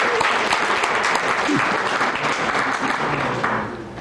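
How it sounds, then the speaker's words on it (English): A crowd at a community forum on water and climate change in Santa Monica applauds, with continuous, moderately loud clapping that eases off slightly toward the end. "I want to give them a round of applause."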